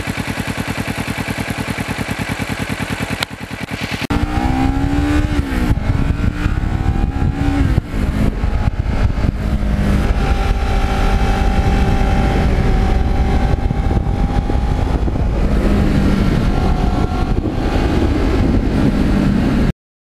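A restored 2009 Kawasaki Ninja motorcycle runs loud and close, its engine note climbing and falling through revs in a steady, continuous roar with no talking.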